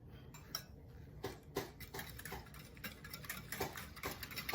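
A utensil stirs a frothy milk, sugar and yeast mixture in a bowl for brioche buns, giving a steady run of close, light ticking and clinking strokes against the bowl with no talking.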